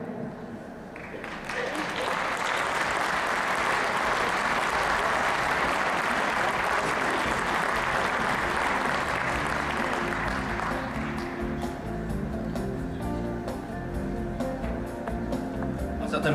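Sustained audience applause fills an ice arena during an opening ceremony in Tomaszów Mazowiecki, a dense steady clapping that rises quickly and then thins toward the end as a voice begins over it.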